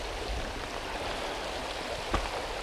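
A partly frozen river in near-freezing weather, its unfrozen water rushing steadily past icicles along the banks, making a constant broadband babble with one brief splash near the end.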